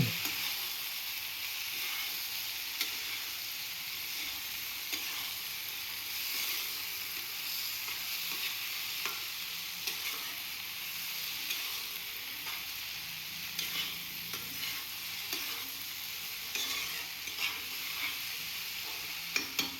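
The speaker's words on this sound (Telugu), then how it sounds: "వంకాయ ముక్కలు నుంజుగా అవ్వకుండా నీట్గా కలుపుకోండి" Eggplant pieces being stirred in a frying pan, a steady scraping and sizzling that runs continuously and fairly close, with no voices over it.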